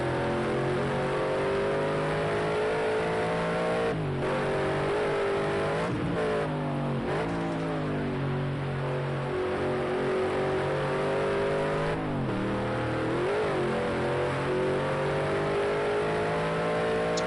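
Race cars in a racing game at Ruapuna Park circuit in Canterbury, a continuous loud engine drone with shifting pitch, repeated gear changes and revs rising and dropping, several cars overlapping throughout.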